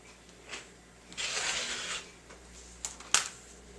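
Fabric strips for quilt binding are cut: a soft swishing slice runs for about a second, followed by a few light clicks and taps, quiet and close, with no talking.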